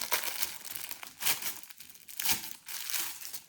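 A plastic-like fabric flag being handled, giving close, loud crinkling and rustling in irregular bursts, with no talk.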